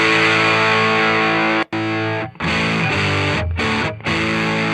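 Electric guitar played through a Joyo Baatsin distortion pedal with no noise gate, giving thick, gritty sustained chords that ring loud and steady, cut off by a few short silent breaks between strummed phrases.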